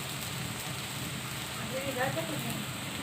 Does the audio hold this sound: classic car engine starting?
no